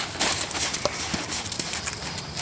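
A horse cantering in an outdoor riding lesson gives soft, rhythmic hoof thuds against steady wind or arena noise, moderately close and continuous throughout.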